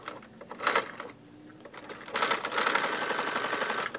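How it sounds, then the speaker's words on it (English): Sewing machine fitted with a blade that trims fabric as it stitches, running in a short whirring burst, pausing, then a longer steady mechanical run close by. "The blade is here, so it cuts the fabric before it sews."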